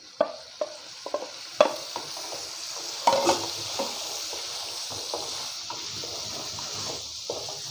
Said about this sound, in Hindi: ये टमाटर और सब्ज़ मिर्चें हम डाल देंगे अभी से।